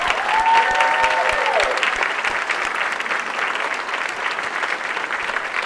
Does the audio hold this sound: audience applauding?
yes